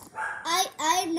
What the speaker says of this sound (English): What you barking at, dog?